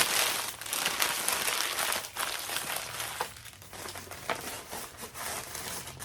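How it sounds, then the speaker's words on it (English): Paper being crumpled into a ball by hand for a gift basket, close crinkling and crackling in uneven bursts over several seconds, with no talk. "Sorry for the noise. I'm going to ball this up."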